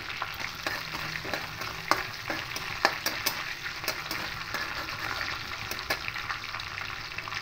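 Dry red chillies and bay leaf pieces fry in hot oil as a tempering for moong dal with rohu fish head, giving a steady close sizzle with scattered crackles and the scrape of stirring throughout.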